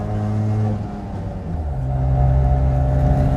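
A 1974 Daihatsu Fellow Max kei car's two-stroke engine drones and climbs in revs, a buzzy steady tone that dips briefly then rises louder toward the top of the range, heard from inside the car.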